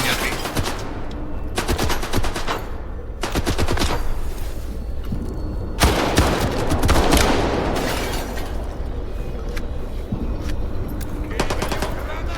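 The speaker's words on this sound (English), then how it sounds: "The guy's shooting at me." Bursts of automatic gunfire in STALKER 2 crackle around the player in rapid rattling strings, loud and close, broken by short gaps and heavier blasts, with the shooting sustained across the whole stretch.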